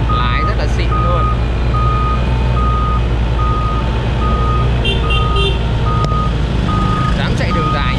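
An excavator travelling fast along a busy road, with a loud steady engine rumble and a regular repeating high reversing-style beep throughout, plus traffic noise around it.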